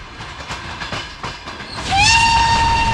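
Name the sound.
steam train running on rails in Poland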